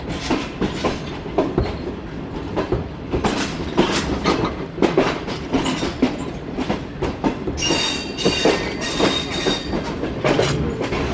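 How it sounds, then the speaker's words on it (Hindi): Shalimar Express passenger train rolling into the platform at Faisalabad railway station, with continuous rhythmic wheel clatter over rail joints, loud and close, and shrill wheel squeal rising near the end. "तो फैसलाबाद रेलवे स्टेशन के प्लेटफॉर्म नंबर 1 पर अप्रोच बना रही है ट्रेन।"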